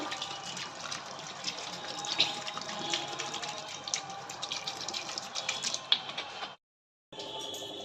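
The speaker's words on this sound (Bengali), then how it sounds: "জল দিয়ে দেবো।" Water pours steadily into a pot of salted potatoes in a kitchen, a close, continuous splashing stream that runs for about six seconds and then stops briefly before resuming.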